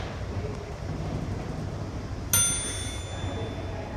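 An OTIS elevator chime at Malden Center commuter rail station gives a single bright ding partway through, ringing out and fading over steady background hum and wind noise.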